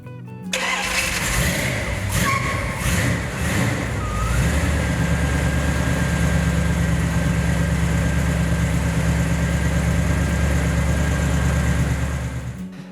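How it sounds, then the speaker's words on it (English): A 1966 Dodge Coronet 440 with a 383ci V8 cranks over with a starter whine, fires up and settles into a loud, deep, steady idle close by, no talking. "you just press the accelerator and the noise just gets better and better"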